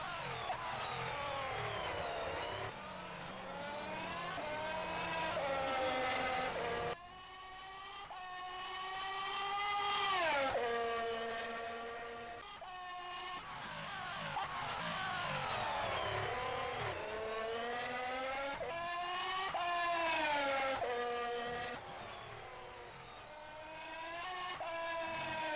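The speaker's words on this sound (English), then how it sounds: "we've also got some of the other cars coming through" Race cars from the rFactor 2 sim in a 2021 F1 Bahrain Grand Prix, engines screaming and shifting as several cars rise and fade past in turn, loud and close with no talk.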